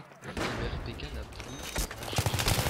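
An RPK machine gun fires in the video game map Operation Metro: bursts of close, rapid gunfire mixed with other shots and battle noise. A person talks over the shooting.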